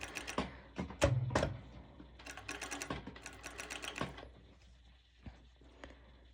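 Sewing machine stitching fabric for high waist bottoms with ruffles, quick bursts of rapid mechanical clatter starting and stopping, close and moderately quiet, with a few sparse ticks trailing off near the end.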